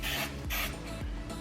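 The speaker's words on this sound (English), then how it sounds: "We're just going to hit that with a little bit of nonstick spray." Nonstick cooking spray sprayed into a glass baking dish for stuffed poblano peppers: several short hissing bursts in a quick rhythm, close and clear with no talking.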